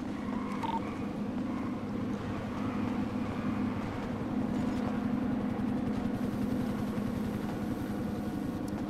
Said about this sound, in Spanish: ¿Estás escuchando un helicóptero, bro? Sí, eso es la policía.